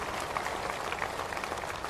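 A large crowd at a political rally in Udgir claps steadily, a dense, somewhat distant roar of many hands without a clear break.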